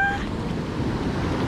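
Ocean waves at a beach in Maldonado, Uruguay wash in as a steady broadband rush, moderately close and fairly soft, with wind noise and a brief high tone at the start.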